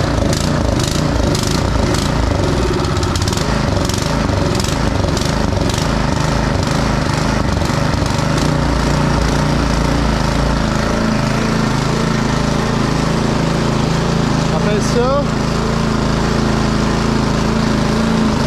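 A gasoline snowblower engine, hand-crank started, runs loud and close with a rough, steady chugging roar that holds for the whole stretch, with a brief sharp change near the end.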